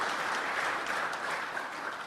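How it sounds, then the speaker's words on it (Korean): A church congregation at a Sunday worship service applauds to welcome visitors, with dense, even clapping that holds steady at a moderate level for about two seconds. "박수로 환영해 주시기 바랍니다."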